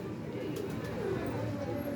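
Soft, low cooing close by from a Lal Toofan breeder pigeon sitting on eggs, a repeated throaty warble over faint background noise.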